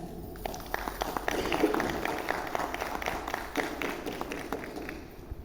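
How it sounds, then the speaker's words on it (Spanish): Applause greets an author at a novel presentation in a cultural centre auditorium, a fairly steady wash of clapping from a modest crowd that eases off slightly toward the end. "a quien recibimos con fuertes aplausos"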